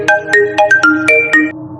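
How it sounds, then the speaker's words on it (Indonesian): Mobile phone ringtones chime in a quick, bright melodic pattern, several tones overlapping at close range, loud and clear, for about a second and a half before fading out. "Dan di langit, suara-suara dari ponsel berdering."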